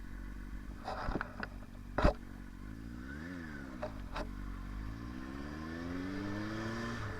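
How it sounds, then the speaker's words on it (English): Motorcycle riding along streets among passing cars, its engine droning steadily with a few sharp transient knocks and a swelling, sweeping pitch as another vehicle passes nearby. "I love riding motorcycles."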